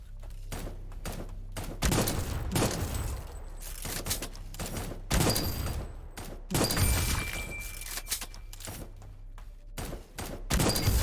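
Video game gunfire in Project Genesis, repeated loud sharp bursts of shots in quick succession across the whole stretch, heard alone with no talk.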